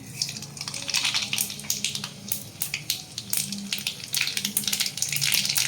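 Mustard seeds crackle in hot oil in a kadhai with dense, irregular pops and snaps over a continuous close sizzle, busy and fairly loud throughout, no talk.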